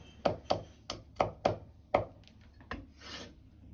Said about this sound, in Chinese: 小米辣直接切成薄片就可以。